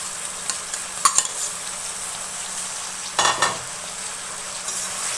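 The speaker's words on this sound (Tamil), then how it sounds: "சேர்த்து நல்லா பிரட்டி விட்டுட்டு" Tomato, curry leaves and other chopped ingredients frying and being stirred in a pan for crab masala, a steady close sizzle broken by a few sharp scrapes of the spoon against the pan.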